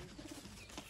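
Pigeons in a Sialkot-breed loft coo softly and repeatedly in a quick low rhythm, faint and close, with no speech over them.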